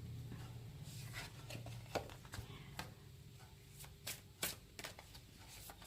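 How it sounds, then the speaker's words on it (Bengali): Tarot cards drawn and handled from a deck during a reading, with soft papery slides and several crisp snaps and taps at irregular intervals over a steady low room hum, close and fairly quiet, with no talking. "আমি 3টে কার্ড নেবো এখান থেকে 3টে কার্ড নেব"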